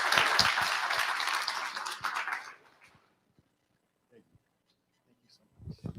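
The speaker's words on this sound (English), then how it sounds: "Let's give him another round of applause." Audience applause in a community center lecture hall, dense clapping loud at first then tapering off into near silence, followed by a few faint bumps and a voice beginning to speak.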